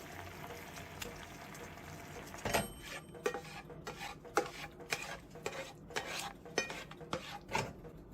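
Pork chops in onion sauce being served onto a plate, with soft clinks and scrapes of utensils against the pan and dish in irregular taps over a low simmering hiss.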